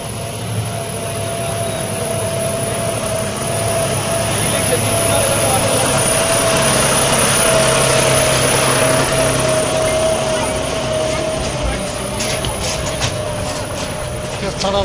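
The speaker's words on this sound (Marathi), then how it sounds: "अशा ठिकाणी हा जॉन डिअरचा ट्रॅक्टर" A John Deere tractor climbs a rough, steep hill path on the way to a temple, its engine giving a loud, continuous drone with steady rumble throughout, while people talk over it.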